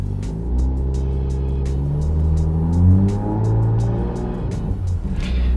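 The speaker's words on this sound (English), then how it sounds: "turn the audio all the way down on the radio and rev up the engine" A car engine revs up and holds high, rising and falling in pitch, loud and close, with rhythmic ticking clicks throughout.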